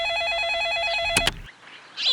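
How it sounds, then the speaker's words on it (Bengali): A telephone rings with a rapid warbling electronic trill, loud and close, then stops abruptly as the handset is picked up with a brief clatter, leaving a short quiet pause. "দেখুন আবার কে ফোন করলো।"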